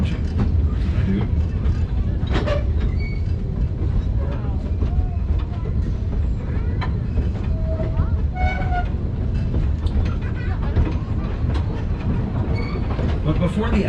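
The Roaring Camp redwood train rumbles and clatters steadily along the track, loud and continuous, with occasional squeals and tonal whistle-like notes over the rolling noise.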